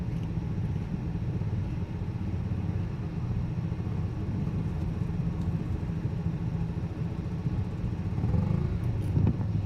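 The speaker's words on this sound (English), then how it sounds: "Next bike, motorcycle on course number 2 is 370. This is a special construction pushrod bike, blown fuel." A special construction pushrod motorcycle running blown fuel rumbles steadily at a racing start line on salt flats, a low continuous engine drone at moderate distance with no talk.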